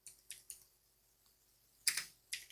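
A few scattered keystrokes on a computer keyboard as a command is typed for Windows disk partitioning, faint and crisp in a quiet room.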